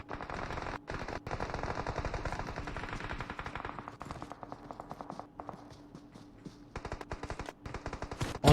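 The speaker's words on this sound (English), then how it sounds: "They're continuing to fire away." Sustained automatic gunfire in PUBG Mobile during an esports tournament match: long, rapid strings of shots with brief pauses, moderately loud and steady throughout.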